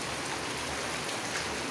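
Steady rain falls during a summer downpour, a dense continuous hiss of drops on surfaces close by, even and unbroken throughout with no voices.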